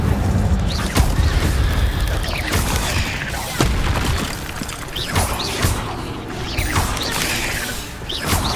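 An Incendio fire spell cast in Hogwarts Legacy against spiders, sounding as a string of sharp bursts, crashes and whooshing hits spread across a loud, busy battle soundscape.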